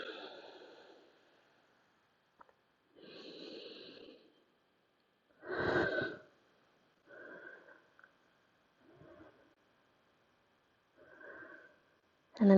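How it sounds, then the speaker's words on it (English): Slow, deep breaths during a yoga session after bow pose, several separate inhale and exhale bursts spaced a few seconds apart, soft and close with quiet gaps between them. "Couple deep belly breaths"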